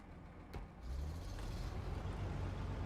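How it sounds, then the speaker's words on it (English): A truck engine in the off-road driving game SnowRunner starts up and runs as a steady, broad low rumble with a faint click near the start, the drone thickening and holding on alone. "I just heard the engine go on."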